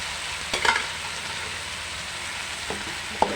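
Chicken pieces sizzle and fry in a hot pan, a steady close hiss with a few clattering stirs and scrapes of a utensil against the pan.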